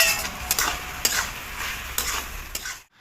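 Spinach curry thickened with rice flour paste sizzles in a pan while a spoon stirs and scrapes in repeated strokes, close and steady before cutting off abruptly.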